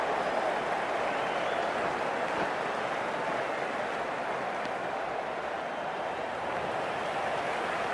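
A stadium crowd in the Cricket 24 video game keeps up a dense, continuous roar of cheering and clapping during an India versus West Indies match, with no clear voices on top.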